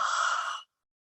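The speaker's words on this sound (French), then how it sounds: "un second grand bâillement sonore par la bouche" One long, loud open-mouthed yawn, breathy and sustained, taken during a relaxation exercise, then cutting off into silence.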